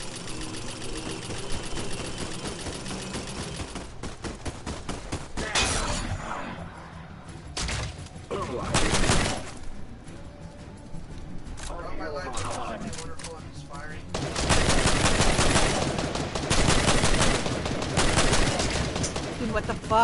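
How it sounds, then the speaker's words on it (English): Rapid bursts of automatic gunfire in Fortnite rattle repeatedly in clusters, loud and close, with voices talking between and over the shots. "Like a lot of gunfire."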